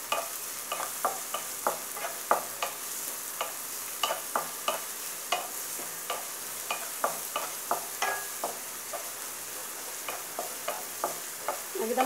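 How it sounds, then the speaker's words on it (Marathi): Chopped onion for Malvani prawn masala fries in a pan over medium flame, a faint steady sizzle broken by regular scraping stirs of a spatula, roughly one per half second, with no talking. "एकदम खरपूस होईपर्यंत आपल्याला परतायचा आहे कांदा।"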